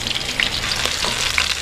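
Tilapia frying in a pan, a loud, close, steady sizzle and crackle of hot oil with small pops, continuous throughout with no voices.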